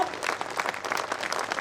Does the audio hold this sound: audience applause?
yes